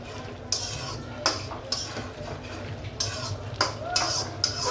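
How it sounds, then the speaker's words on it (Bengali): Green papaya stir-fried with spices in a pan for a Bengali hilsa curry, heard as a series of distinct metallic scrapes and clinks of a spatula against the pan over a faint sizzle, with no voices. "মশলার সাথে পেঁপেটি কষিয়ে নিতেছি"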